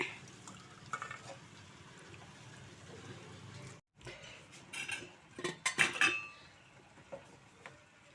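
Cut broad bean pieces stirred in a pot with tomato, giving soft scraping and clinking of a spoon against metal in irregular bursts, quiet at first and busier toward the end, with a brief dropout midway.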